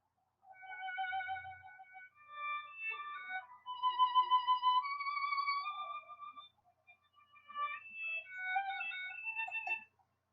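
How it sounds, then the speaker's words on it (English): A solo violin plays a short melodic phrase with sustained, singing notes and a brief pause before a final flourish, clear and alone. "And that is the violin, and it sounds like this."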